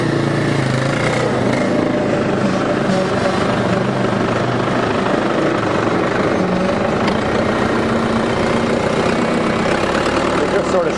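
A dump truck on a farm idles steadily and loudly while making a three-point turn, its low engine rumble continuous throughout.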